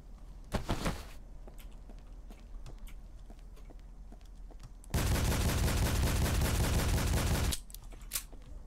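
Full-auto gunfire in a video game: a short burst early on, then a sustained, loud automatic stream lasting about two and a half seconds, with faint footsteps and single clicks around it.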